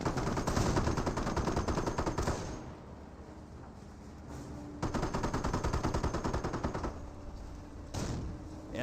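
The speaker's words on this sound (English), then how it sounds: "Greyhound engaging these Panzer Grenadiers." A Greyhound armored car in Company of Heroes fires long rattling machine-gun bursts at Panzer Grenadiers. Two sustained volleys are separated by a quieter pause, with the gunfire dense and moderately loud.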